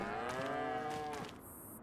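Angus cattle in the farming game Farming Sim 25 let out a single drawn-out low moo, close and clear, trailing off near the end.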